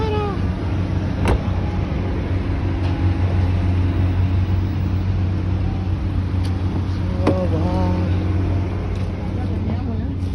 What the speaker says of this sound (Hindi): देखिए कितना रश है। ये शारजा जाने वाली रोड है, मोस्टली इधर रश होता है।